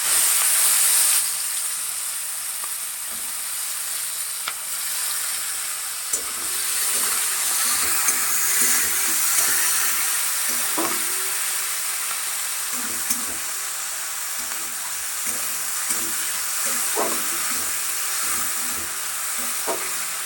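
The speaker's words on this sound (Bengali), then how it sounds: "আমি পেঁয়াজটা কেটে রেখেছিলাম সেটা ভেজে নিই" Chopped onions fry in a pan, giving a steady hiss and sizzle throughout with scattered soft clicks and scrapes of stirring, close and moderately loud with no talk.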